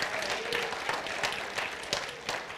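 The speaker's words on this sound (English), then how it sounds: "Let's give the Lord a hand clap on that one." A church congregation claps for the Lord during a sermon on praise: a dense, even wash of hand claps from a crowd, steady and moderately quiet, with a few louder claps standing out and no talk on top.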